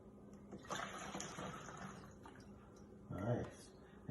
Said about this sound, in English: you want to pour the water in?